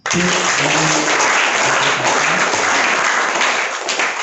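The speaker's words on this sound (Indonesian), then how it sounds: "Boleh tepuk tangan." A crowd claps and applauds at the end of a podcast talk, dense and loud, holding steady for several seconds, with a few voices underneath at the start.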